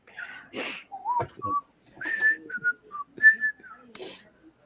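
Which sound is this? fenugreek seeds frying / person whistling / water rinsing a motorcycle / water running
person whistling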